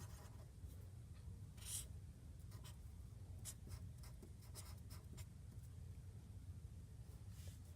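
A pen writes quietly across paper or a tablet during a math lesson on graphing x-intercepts. Faint scratchy strokes come in short irregular bursts over a steady low hum, with no talk.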